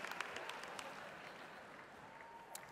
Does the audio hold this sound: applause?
yes